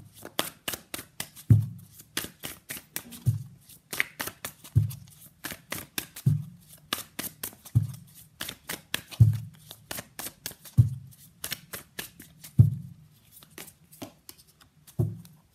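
Tarot cards shuffled by hand in repeated riffles, each burst of fluttering snaps ending in a soft thump, about every one and a half seconds, close and crisp with no talking.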